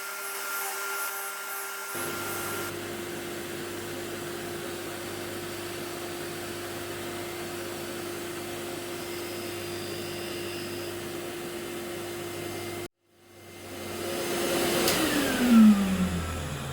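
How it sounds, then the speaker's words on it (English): Grinding a custom insert tool to a point on a grinder for a homemade insert holder: a steady, even grinding whir runs for most of the clip, cuts off abruptly, then a rising whine swells back up near the end. "just grind the other side until we reach the point, and then we're done"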